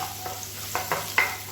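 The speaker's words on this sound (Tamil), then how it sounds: "எண்ணெய் சூடானதும் 1 டேபிள் ஸ்பூன் அளவுக்கு பொடியாக நறுக்குன பூண்டு சேர்த்துக்கலாம்." Finely chopped garlic sautés in hot oil in a pan, cooked for chilli egg noodles. A steady low sizzle runs under a few distinct scraping stirs, close and moderately loud, with no voices.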